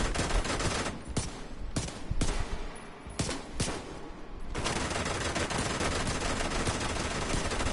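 Automatic gunfire rattles in The Division 2 video game: loud bursts broken by short gaps in the first half, then a sustained, unbroken stretch of shooting to the end.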